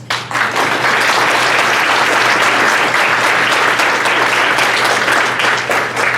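Sustained applause from a large audience at a university president's lunch event, steady dense clapping that starts abruptly and holds loud and even for several seconds, with no talking over it.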